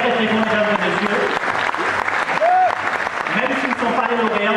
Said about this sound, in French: On doit les applaudir très très fort, mesdames et messieurs.